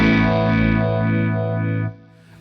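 Electric guitar played through a VS Audio Vibler vibe pedal with a Fuzzy Tale fuzz pedal, giving a sustained, warbling chord with a slow, regular swirl, then cutting off sharply near the end.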